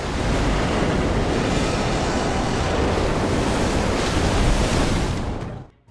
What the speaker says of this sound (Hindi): इधर हम ऊपर देखते हैं कि जहाँ समुद्री तूफान और ज़्यादा बढ़ चुका है।